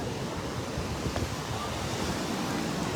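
Rough monsoon surf pounds the sea shore at Bangka, a steady loud wash of breaking waves mixed with wind noise on the microphone, continuous with no pauses.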